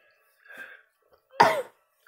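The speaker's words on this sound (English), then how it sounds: "Sorry, I had to cough." One person makes a soft throat sound, then gives a single sharp, close cough in an otherwise quiet room.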